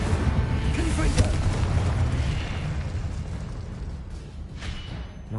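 Confringo and Incendio spell blasts in the Hogwarts Legacy video game make a loud, continuous rumbling barrage of booming explosions that run together with little break.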